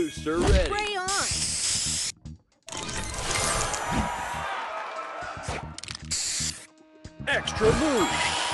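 A spray booster in a match puzzle video game lets out a long hiss between bouncy, tonal game sound effects and jingles, with brief pauses of silence.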